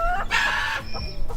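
Chickens clucking at close range in a farm animal pen, a few short loud calls that break off and return, with no talk over them.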